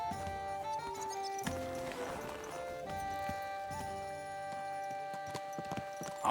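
Horse hooves clip-clopping in the video game Kingdom Come: Deliverance 2, a steady walking rhythm heard among game music and ambience at moderate level, with no voices.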